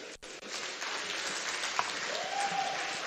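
A summit audience in Nigeria applauds with a dense, even patter of many hands clapping that holds steady at moderate distance.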